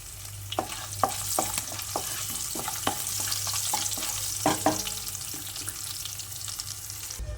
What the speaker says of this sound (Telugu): చూడండి ఫ్రెండ్స్, తాలింపు వేసేసాను.